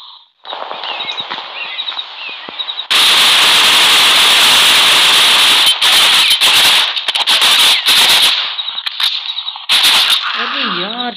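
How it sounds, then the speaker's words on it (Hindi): Sustained loud gunfire in the Critical Ops shooter game, dense rapid shots forming a near-continuous barrage with brief breaks, and a voice talking over parts of it. "फायरिंग कर रहा है क्या है यार"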